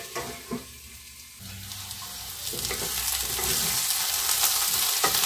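Potatoes sizzle and fry in a covered pan over medium heat, a steady hiss rising gradually louder with a few soft clinks and scrapes near the start, no voices.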